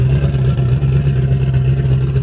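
A loud turbocharged Chevrolet Camaro engine idles and revs up close with a heavy low-pitched rumble, its tone pulsing slightly throughout.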